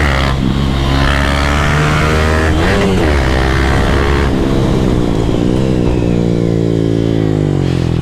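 A motorcycle fitted with scooter tires is ridden up close, its engine loud as it revs up and down through several rising and falling pitch sweeps, with no talk over it.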